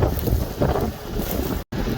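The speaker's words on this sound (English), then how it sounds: "Also, sorry about the wind, but it's always windy." Heavy wind buffets the microphone in a steady low rumble, with one brief dropout near the end.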